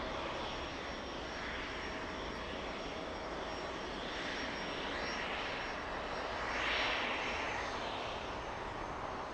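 An Emirates airliner taxis at LAX, its jet engines giving a steady distant roar and whine that swells slightly toward the end, heard alone without talk.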